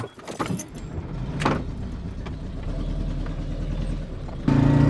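A car is driven on the Alaska Highway after brake repair, its engine and road rumble holding steady at a moderate level, with a jangle of keys and a few knocks early on and a louder lift at the end.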